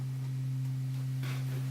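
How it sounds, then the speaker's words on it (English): A reference keyboard holds a steady low sine-wave tone, a pure unbroken hum used for tuning a custom chromatic kalimba, with faint rustles over it. "I use a reference keyboard"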